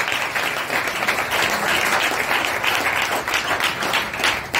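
A church congregation applauding: loud, dense, sustained clapping from many hands, steady throughout with no clear gaps.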